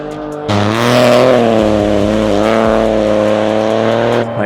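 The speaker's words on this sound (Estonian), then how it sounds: "nüüd tuleb auto, mis sõidab kohe kraavi" A rally car roars past at speed close by, its engine loud and steady before dropping away as it passes, with no voices over it.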